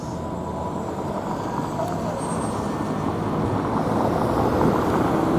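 A white airplane circling overhead on what may be a training flight, heard as a steady broadband engine roar that swells slightly over a few seconds, mixed with outdoor background noise, with no talking.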